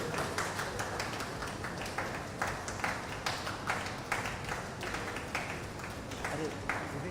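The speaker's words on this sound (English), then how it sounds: "Can we please have a round of applause for our second place, Pooja Aarti Raghu and Ratika Seelan." Audience applause at the finale of a squash doubles national championship in Chennai, honoring the second-place pair: steady, moderately distant clapping with sharp bursts running throughout, mixed with background voices.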